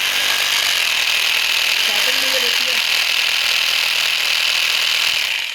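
An electric drill runs on power from an Alkaram 2000-watt DC-to-AC inverter, drilling a hole: a loud, steady high whine holds for several seconds, close by, with a brief lower mechanical wobble partway through.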